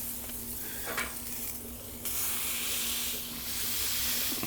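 Venison smash burgers sizzle loudly on a hot griddle with a close, steady hiss and occasional scraping from a spatula pressing and stirring.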